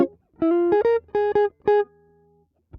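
Swing jazz guitar phrase, with a minor third moving to a major third near the end: several clean, clearly picked notes, close and alone, with the last note ringing out.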